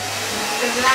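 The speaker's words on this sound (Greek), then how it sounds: "μπορείς να ανοίξεις το πιστολάκι γιατί με ενοχλεί αυτή η ησυχία" A household hair dryer switched on, a steady close whooshing blower that builds slightly in strength through a single second.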